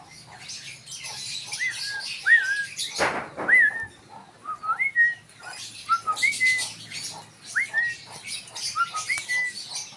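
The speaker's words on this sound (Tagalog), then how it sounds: "Ang ganda ng bird na to." A caged bird on a bird farm gives a series of short, clear, rising whistled chirps at a fairly regular pace. The calls are close and carry over faint background noise, with one brief rustle or thump early on.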